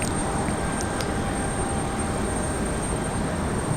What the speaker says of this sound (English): That's a 737.